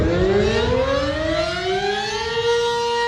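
Lebanon's emergency alert siren wails loudly and continuously, its layered harmonic tones slowly gliding upward over about three seconds with no voices present.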